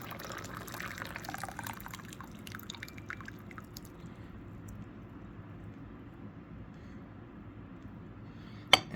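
Snail (Yu Luo) jasmine green tea from its first steep pours out of a small brewing vessel, a soft, steady trickle of liquid close by, ending with a light clink of ceramic.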